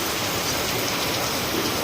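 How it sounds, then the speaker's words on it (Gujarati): Dense, steady downpour in Maliya Hatina hisses continuously, a loud wash of heavy rain with no pauses. "ગાજવીજ સાથે વીજના કડાકા ભડાકા સાથે અંધાધાર વરસાદ કૂદી પડ્યો હતો"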